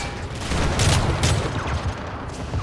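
Dense Modern Warfare 3 gunfire fills the scene with a continuous rattling fusillade of overlapping shots, loud and close, with heavier booming bursts mixed in and no speech.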